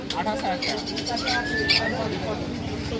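Sun conures and monk parakeets at a bird market give a few brief chirps and one rising whistled call over a steady background hum, while a person talks nearby.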